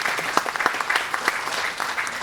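Audience applause fills a keynote hall at a security conference, a dense, steady wash of many hands clapping at moderate loudness, with no talk over it.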